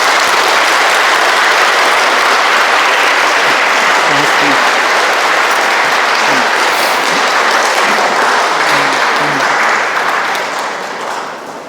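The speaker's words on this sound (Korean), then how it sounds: "큰 박수로 신부님을 모시겠습니다." Loud, dense applause from a church lecture audience welcoming a priest for a Lenten talk, a steady wash of many hands clapping for about ten seconds before easing slightly at the end; no talking over it.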